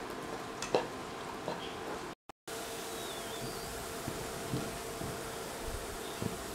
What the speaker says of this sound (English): Keep on sauteing until the carrot and beans are nicely cooked.